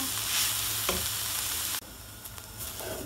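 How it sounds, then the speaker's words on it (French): Shredded white cabbage frying in a little oil in a sauté pan, a steady loud sizzle with scraping stirs and a sudden drop in intensity partway through as it is tossed. "On remue le chou régulièrement."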